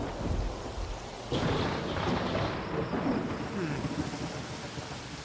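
Thunderstorm with lightning and rain in the video game Tropico 4: a loud thunder crack breaks over steady pouring rain and rolls on, fading slowly, with no talk.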